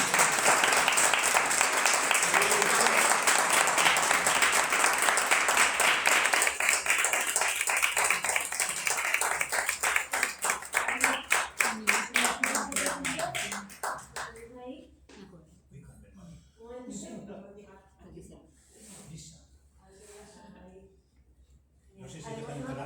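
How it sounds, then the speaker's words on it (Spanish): An audience bursts into applause for Gustavo at a Social Work Day award ceremony, loud sustained clapping that thins into scattered claps after about fourteen seconds as people start talking. "un aplauso para Gustavo"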